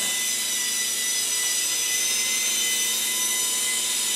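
A small toy RC police helicopter, a Badge City Heat Air Command, running after being switched on, giving a constant high-pitched electric motor whine and rotor buzz, close and steady with no talk.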